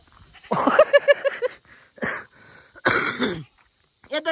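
A goat back home in a Nepali village bleats in a few short, wavering cries, fairly close, with a throaty, cough-like quality and pauses between calls, and no talk.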